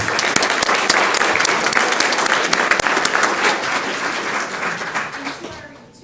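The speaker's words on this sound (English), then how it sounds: "I think that deserves a round of applause." Audience at a school district governing board meeting applauding in a steady, full round of clapping that gradually fades toward the close.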